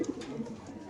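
White racer pigeons cooing softly in a cage, a brief close low coo with a few quick repeated pulses and no talk.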